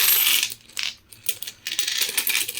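Twenty-rupee coins in a large, heavy pile clink and jingle as they are handled, with several bursts of bright metallic chatter separated by brief pauses, close and fairly loud.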